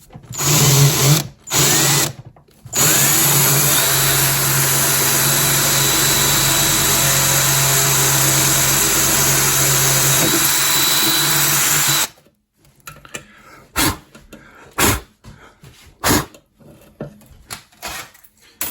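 A power drill whirs loudly and continuously for several seconds after two brief bursts, drilling holes in an old 8-bay NAS case, then cuts off, followed by scattered knocks and clatter.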